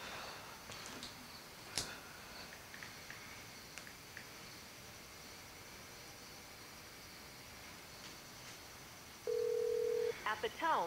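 A phone call going through to voicemail, with low hiss and faint clicks followed by a steady ringback-style tone and a short electronic beep near the end.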